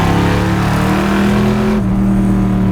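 A Ford Mustang Shelby GT350 engine revs hard and loud, holding a steady high-pitched roar through the rev range before dropping to a slightly lower tone near the end. The engine is heard up close, with no talking.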